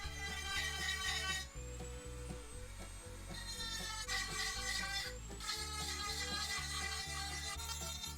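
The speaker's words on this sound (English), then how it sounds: "I'm going to come in with the Dremel and bring it to a nice point at this edge" A small Dremel rotary tool whines at high pitch while grinding a point on the wooden edge of a turkey call, in bursts with brief pauses between passes.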